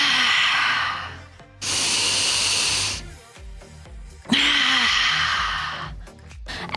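Deep, audible breaths during a yoga crescent lunge twist: long hissing exhales and inhales in slow rhythm, close to the microphone, with faint background music beneath.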